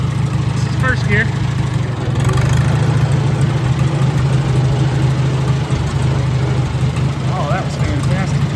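A Farmall Super A tractor engine runs steadily in first gear, a loud, close, continuous low chugging throughout, while a person talks over it.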